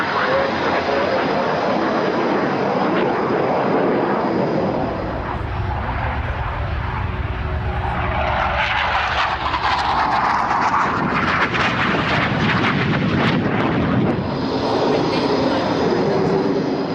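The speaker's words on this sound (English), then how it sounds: "The Hawk is the RAF's primary jet trainer, as well as being the mount of the Red Arrows." A BAE Hawk jet trainer, the RAF's primary trainer and the Red Arrows' mount, flies at the Farnborough Airshow 2002, a loud continuous jet roar that swells and fades as it passes, with a voice talking over it.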